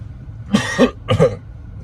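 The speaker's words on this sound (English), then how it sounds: "the coughing, it's a different thing." Two harsh coughs close together, near and fairly loud, with a short pause between them and no talking.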